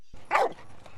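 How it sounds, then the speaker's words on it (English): A single sharp dog bark up close, followed by quieter room sound. "So that barking that he's doing"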